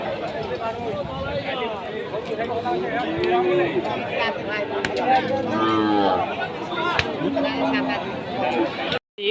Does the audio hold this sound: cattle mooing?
yes